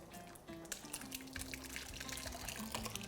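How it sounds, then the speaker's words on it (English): Chunky, silky gazpacho poured carefully into a bowl, a soft, close, continuous liquid trickle and slosh lasting a few seconds, quiet in a kitchen. "and you somewhat carefully pour it in"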